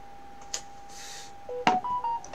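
A phone gives off a few short electronic beeps and tones, scattered and faint to moderate, near a Zelda: Breath of the Wild game session, with no voices during the sounds.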